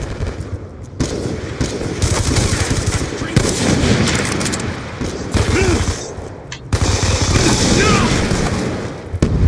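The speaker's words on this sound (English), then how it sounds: "I definitely hit the shoot button." Rapid automatic gunfire from an online Black Ops 2 match, loud and close, with dense bursts of shots running almost continuously alongside a talking voice.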